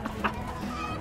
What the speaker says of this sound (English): Here comes the chickens. Here they come.